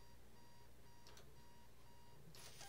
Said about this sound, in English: Fucking alarm clock.